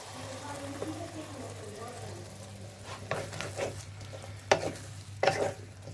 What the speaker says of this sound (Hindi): और 7 मिनट के लिए इसे इसकी अच्छी तरह भुनाई करेंगे।